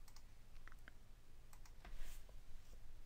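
Fairly quiet keystrokes on a computer keyboard, a scattered run of clicks over steady background hiss, with no voices.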